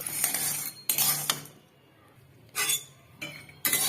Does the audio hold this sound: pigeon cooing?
no